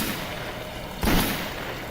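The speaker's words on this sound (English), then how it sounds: "I'm practicing my gunshots around here." A single gunshot fires in the video game Silent Hill Homecoming, one sharp burst about halfway through a low steady game background, with no talk.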